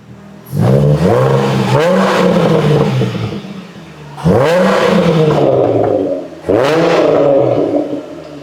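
A Jaguar XF V6 revs three times through a custom-built exhaust, each loud, close blip rising then settling into a burbling idle between pulls.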